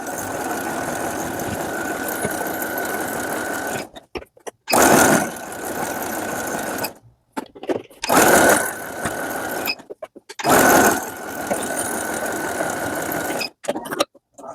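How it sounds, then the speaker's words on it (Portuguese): Sewing machine stitching a zigzag seam on a blouse, a loud steady mechanical whirr in several bursts separated by short silent stops, close up with no talking. "Você pode passar uma overlock se você tiver, ou então é somente o zigue-zague. Eu vou passar aqui o zigue-zague."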